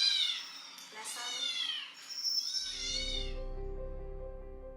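Kittens meow in high, rising calls, several overlapping cries in quick succession, followed by a low rumbling hum as the mewing fades near the end.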